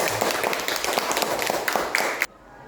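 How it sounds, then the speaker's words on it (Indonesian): Classroom applause from students, a brief burst of fairly close, dense clapping lasting about two seconds before stopping abruptly. "Tepuk tangan dulu"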